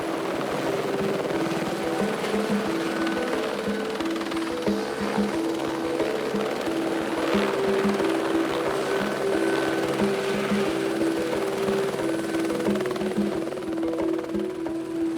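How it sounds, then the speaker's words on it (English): A helicopter sets down in the Kenyan bush during a rhino rescue mission, its rotor thudding in a loud, steady rhythm close by with engine whine throughout and no voices. "looks for a place to set the chopper down"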